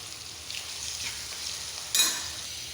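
Sliced onion, curry leaves and ground masala paste sautéing in oil in a kadai for chicken liver fry, a soft steady sizzle with a stirring scrape near the end, close and faint.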